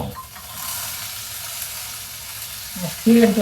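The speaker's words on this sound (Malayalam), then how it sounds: "അരിഞ്ഞു വെച്ചേക്കണ കോവക്ക നമുക്ക് എടുത്തിടണം കേട്ടോ" Chopped ivy gourd frying in a pan, a steady close sizzle and hiss with a louder burst of crackle near the end as more is added.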